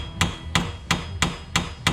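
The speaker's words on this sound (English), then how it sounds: "you can put the nut back onto the stud and then tap it with a hammer" Small hammer tapping a nut threaded onto a power steering rack stud on a Corvette, six sharp metallic knocks at an even steady pace, close and clear with no talk.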